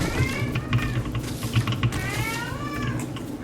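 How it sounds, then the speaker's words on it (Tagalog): A cat meows a few times, fairly close, over a steady background hum with faint tapping noises. "Ingay ng pusa ko."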